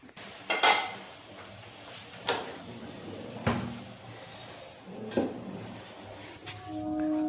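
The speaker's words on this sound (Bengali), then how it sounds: "ঢাকনা দিয়ে গ্যাসটা বন্ধ করে দেবো।" Metal lid set onto a pot of cabbage on a gas stove, a handful of separate clanks and scrapes of cookware spaced a second or two apart in a quiet kitchen, ending with a faint hum.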